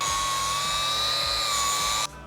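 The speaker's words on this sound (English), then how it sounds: "The easiest way to get a notch like that going with what I have is probably going to be flappy wheel." A flap wheel on a grinder digs a notch into steel while building a Nissan GQ Patrol off-road ute, a loud steady high whine with grinding rasp close by, cutting off abruptly near the end.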